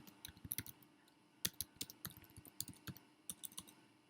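Quick, light clicks of a computer keyboard as a web address is typed, irregular bursts of keystrokes, close but quiet.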